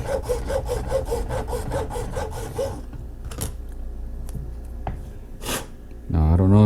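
A groove is cut deeper for an off-road lift axle, making a rhythmic rasping, sawing scrape up close for a few seconds. Scattered clicks and shuffling follow, then a voice speaks briefly at the end.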